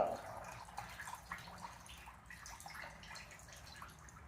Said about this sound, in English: Just let that water drip.